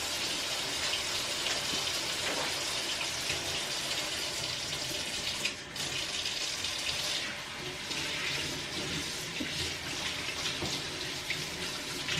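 Very hot water gushing from a kitchen faucet into a sink, a steady splashing stream with a brief dip midway, close and clear with no talking over it.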